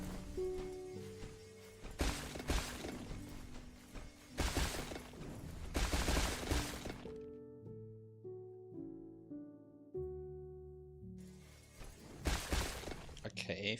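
Mortar tower fire in the strategy game Nordhold, heard as bursts of heavy blasts and crashes layered over game music, with loud barrages around the start and middle, a quieter musical stretch, then more explosions near the end.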